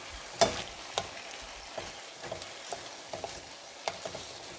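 Seafood linguine sizzles steadily in a hot pan with smoked paprika and seasonings as a utensil stirs it, with soft scrapes and light taps over the continuous frying hiss, close and quiet.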